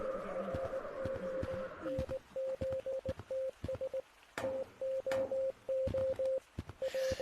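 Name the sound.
Morse code beeping in video game Gorilla Tag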